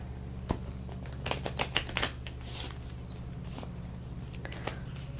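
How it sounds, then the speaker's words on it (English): Small fairy tarot-style cards are shuffled close up, giving soft, rapid papery riffles and taps in a cluster, then quieter scattered flicks over a low steady hum. "I am going to just shuffle these little fairy cards."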